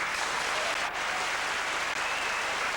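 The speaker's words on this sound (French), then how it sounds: "Ils sont bien bons d'applaudir." Steady audience applause fills the room, a dense wash of clapping from a comedy-show crowd that holds evenly throughout with no voices over it.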